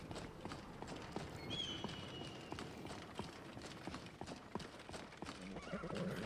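Steady clip-clop of hooves at a galloping pace with a horse whinny partway through, over a dense background bed, in the video game Skyrim VR.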